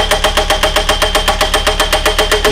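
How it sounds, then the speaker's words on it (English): An engine-powered drill bores into a fence pole at close range, loud and steady, its motor throbbing in a fast regular pulse of about six beats per second. "He's drilling that pole."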